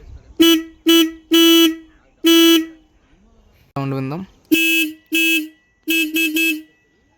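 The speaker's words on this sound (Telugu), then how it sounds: "దీని హార్న్ సౌండ్ విందాం" A Royal Enfield Classic 350 motorcycle horn honks in short bursts, several single beeps and a quick double toot, loud and close, with a brief voice in the middle.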